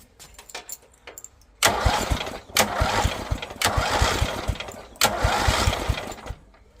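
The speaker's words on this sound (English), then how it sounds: "It probably won't start very well, but let's just give it a crank and see if that's firing as it is." A Yardman Mustang ride-on mower's engine is cranked by its starter in three or four loud bursts of a second or so each, with short pauses between them and no clear catch into running.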